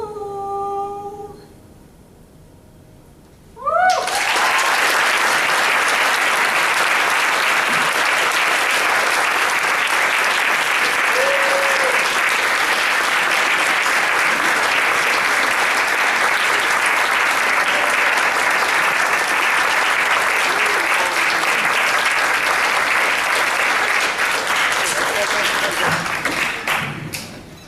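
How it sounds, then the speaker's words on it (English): Loud, sustained applause from a standing audience at a 2014 high school spring choral concert in Oberlin, Ohio, follows a sung final note and carries on evenly for over twenty seconds. "they were standing to applaud for Emily"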